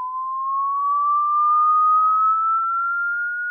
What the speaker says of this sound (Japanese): 1000Hz から 10000Hz までスイープで音出しチェックします